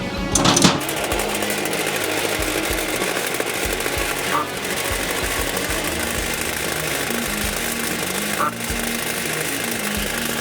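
Rotating rollers on a DTF printer's powder shaker run with a steady mechanical hum and a fast, regular clatter, one sharp knock at the start and a couple of brief bumps later, with a voice talking over it.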